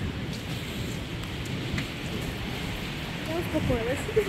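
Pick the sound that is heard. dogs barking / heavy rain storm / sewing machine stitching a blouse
heavy rain storm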